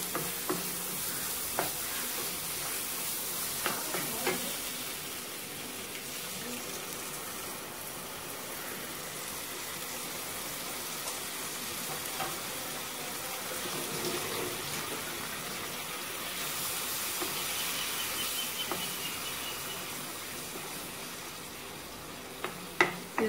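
A tamarind water curry for dried fish simmers and sizzles in a pan, a long even bubbling hiss with occasional soft clicks and stirring knocks, steady and close with no voices.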